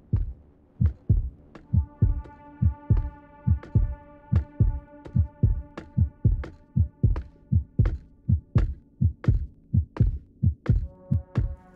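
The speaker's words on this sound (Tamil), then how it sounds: "அவன் கிட்ட வர ஹார்ட் பீட் சவுண்டு அப்படியே இன்க்ரீஸ் ஆகிட்டு இருக்கு" A heartbeat in a horror video game pulses in a steady double-thump rhythm, loud and unbroken, while a droning hum builds underneath as the enemy approaches.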